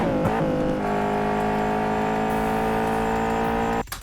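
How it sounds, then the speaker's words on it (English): A Bugatti Vision Gran Turismo engine in the racing game Asphalt 8, a brief rising rev and then a loud, sustained, buzzing engine drone for several seconds, ending with a sudden cutoff. "And that is a Bugatti Vision Gran Turismo."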